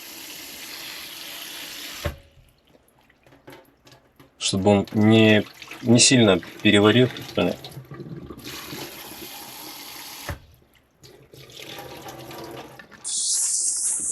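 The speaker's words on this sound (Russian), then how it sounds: "Можно его обдать даже холодной водой," Cold tap water runs in a sink over boiled soybean sprouts for Korean bibimbap, a steady hiss in bursts that stops and restarts, with someone talking over parts of it.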